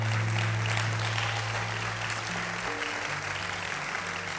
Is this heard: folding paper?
no